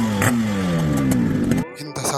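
A TVS scooter engine revs hard and close, the pitch sliding down as it runs on, then breaks into short choppy bursts near the end.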